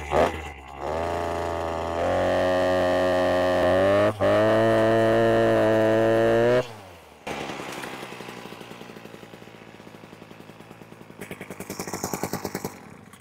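A Maxtra gas pole saw drones loudly at high revs while cutting overhead branches, its engine pitch shifting and then dropping to a rougher, uneven idle with rhythmic pulses.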